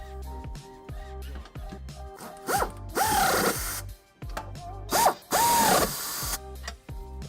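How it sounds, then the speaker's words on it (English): A hand ratchet with an 11/16 socket snugs trailer hitch nuts on a 2019 Kia Optima, with rapid clicking bursts between pauses and a few louder metallic scrapes, close and alone. "we can snug them up using an 11/16 socket"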